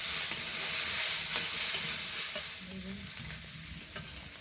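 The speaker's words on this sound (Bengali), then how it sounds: "দিয়ে আবারও ভালো করে কষাতে থাকবো" Shukto vegetables being stir-fried with salt and turmeric in a pan, a steady close sizzle with scraping stirs and soft clatter throughout, louder at first and easing slightly toward the end.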